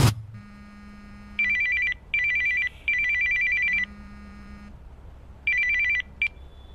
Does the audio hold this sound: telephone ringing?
yes